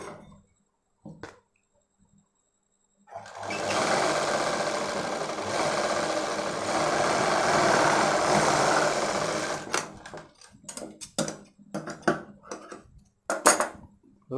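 A sewing machine stitches baby frock fabric in one long, even run of about seven seconds, loud and close, followed by scattered clicks and rustles as the cloth is turned.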